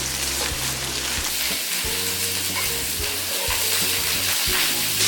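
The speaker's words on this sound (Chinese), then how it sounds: "先把鸭肉炒一下。" Duck pieces stir-frying in hot oil in a wok with garlic, bean paste and ginger: a loud, steady close-up sizzle with repeated low scraping knocks from stirring.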